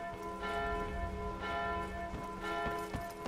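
A church bell rings in a town in the video game Skyrim, its sustained tolling repeating several times and fairly loud, with no talking over it.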